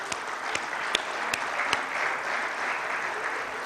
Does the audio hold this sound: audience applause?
yes